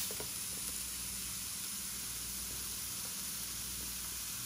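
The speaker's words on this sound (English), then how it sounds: "I'm going to stir fry my vegetables here" Vegetables stir-frying in a pan for a tofu stir fry, giving a steady, quiet broadband sizzle and hiss that runs without a break and with no voices over it.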